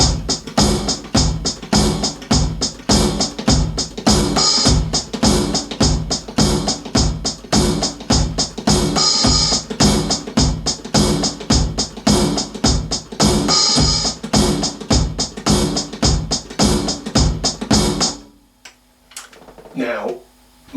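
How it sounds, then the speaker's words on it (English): A steady rock-style drum groove of bass drum, snare drum and hi-hat in a regular four count, loud and close, playing alone for about eighteen seconds before stopping abruptly. "it's a 4 count with bass drum coming in on 1"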